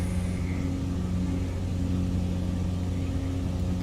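A light aircraft engine in Microsoft Flight Simulator 2020 drones steadily at high RPM, a constant loud tonal hum with no speech.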